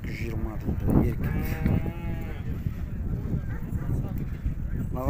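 Cattle moo several times, loud and close, at a livestock market in Urzhar, with people talking around them and a general crowd murmur beneath.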